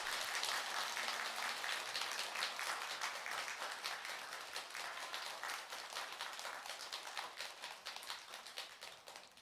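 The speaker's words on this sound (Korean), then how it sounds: "큰 박수 부탁드리겠습니다" An audience claps steadily for several seconds after a Buddhist dharma talk at a temple service, a dense patter of applause that gradually fades toward the end.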